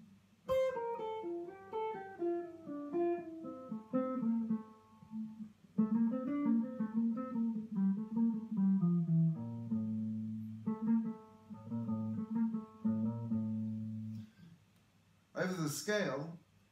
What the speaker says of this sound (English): Phrygian is Spanish minor